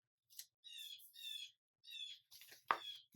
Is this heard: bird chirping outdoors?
yes